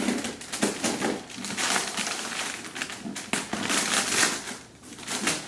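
Packing tape tears off an express airmail parcel shipped from overseas, a harsh crackling rip that comes in several close bursts across the whole stretch, loud and near with no talk over it.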